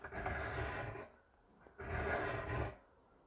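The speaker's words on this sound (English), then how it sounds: "just draw file from the heel of the blade all the way to the tip, slowly removing all that rust and creating a brand new edge" A hand file is draw-filed along the rusty blade of antique shears from heel to tip, giving two long, even rasping strokes separated by a short pause.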